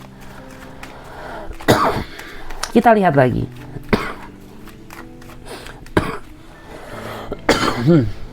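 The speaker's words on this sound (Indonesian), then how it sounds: "Sorry batuk ya." A few sharp coughs break up ongoing speech, one short burst early and another near the end, close to the microphone.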